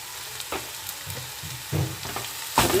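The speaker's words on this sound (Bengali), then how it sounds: "মশলাটা আমার ভাজা হয়ে গেছে এবার আমি সেদ্ধ করে রাখা মাছগুলো দিয়ে দেবো" Spices sizzle in hot oil as boiled fish is stirred in for fish chops, a steady fry broken by several scraping stirs of a spoon against the pan, close and fairly quiet with no talk.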